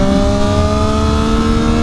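A Triumph 675R motorcycle exhaust cruising in a very low gear gives a loud, close, steady high-revving drone with a strong tonal buzz.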